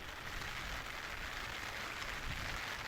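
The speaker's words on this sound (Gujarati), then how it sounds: "વરસાદ અત્યારે એટલો બધો હેવી નથી થોડું ઝાપટા જેવું છે" A light rain shower falls steadily over a flooded residential society in Vadodara, a dense even patter of drops on surfaces filling the scene at a constant moderate level with no voices.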